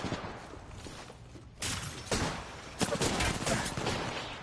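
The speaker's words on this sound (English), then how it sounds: "Taking fire." Gunfire in Apex Legends arena combat, a series of sharp shots and bursts growing louder after a quieter start, with some voice in the mix.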